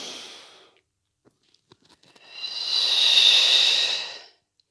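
Breathing during an exercise routine: a short exhale at the start, a pause with faint clicks, then a long, steady, close breath out, heard alone without talk.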